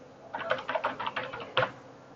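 Quick bursts of typing on a computer keyboard, about a dozen close, light key clicks in an uneven rhythm, with one firmer tap near the end, heard alone in a quiet room.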